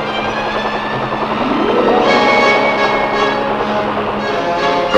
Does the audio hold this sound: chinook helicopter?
yes